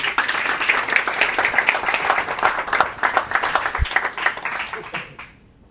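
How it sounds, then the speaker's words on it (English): Audience at a PHP developers meetup in Lisbon applauding, a sustained round of close, dense clapping that carries on for several seconds before tapering off at the end. "Another round of applause, please."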